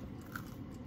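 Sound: crunch of biting into pizza crust

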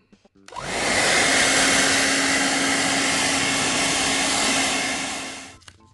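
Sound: hairdryer blowing to remove stickers from game boxes

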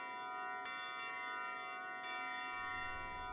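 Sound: bell ringing in Klonoa 2 video game

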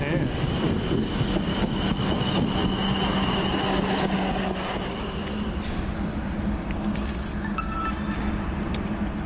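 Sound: train passing

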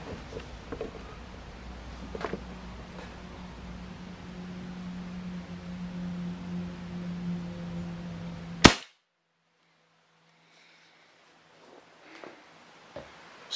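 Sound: Crosman 2400KT air pistol shot with TKO muzzle brake, no silencer

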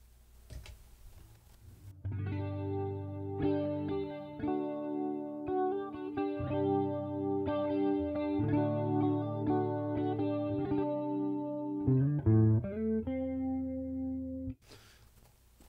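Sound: electric guitar with chorus effect

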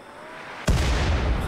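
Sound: artillery shot fired in the video game RimWorld

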